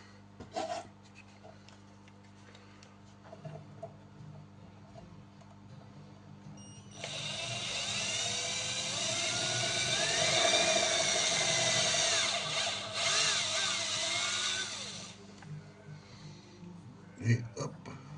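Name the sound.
small power drill drilling on a custom Golf mk3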